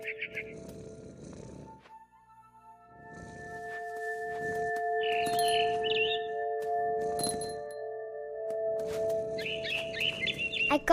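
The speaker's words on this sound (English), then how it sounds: "All I cared about was eating that mama bird." Birds chirp in short bright bursts in the video game What Remains of Edith Finch, set in a big tree, over sustained musical tones and soft rustling steps.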